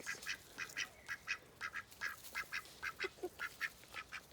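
Geese honk and call in a rhythmic series of short, nasal cries, about two per second, fairly close but soft, with no talking over them.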